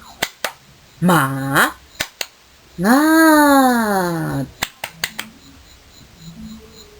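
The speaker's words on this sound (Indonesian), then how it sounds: "Ayo, tepuk semangat." A rhythmic group clapping routine in a classroom: sharp, separate handclaps in a set pattern, broken by long, drawn-out sung or shouted voices, then a closing run of quick claps.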